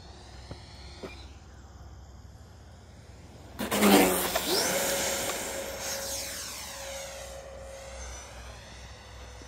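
Freewing J10A 90mm RC delta-wing jet doing a touch and go: a quiet start, then a sudden loud ducted-fan roar sweeping past close by, fading into a long whine as it climbs away.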